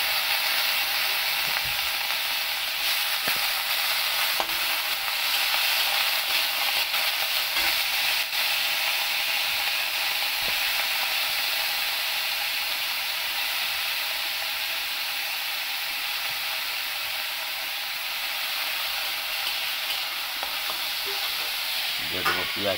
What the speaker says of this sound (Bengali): লাউয়ের ছিলকা ভাজা।